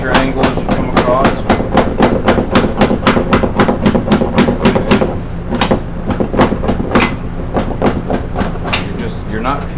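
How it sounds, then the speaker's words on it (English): A hammer slid repeatedly across a metal workpiece on a table, forming a wire edge by hand; a fast run of sharp, even scraping clicks continues steadily at close range, with a brief lighter patch midway. "You're just sliding the hammer across so that it kind of wipes that piece over to about that much of an angle."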